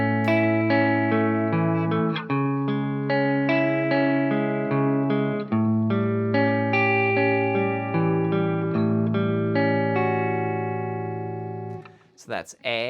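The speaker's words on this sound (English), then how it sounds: "So the arpeggio picking would sound like this for the next 4 bars." Arpeggiated guitar picking from a song, with clear, evenly spaced notes ringing over one another over several bars before a brief noise at the end.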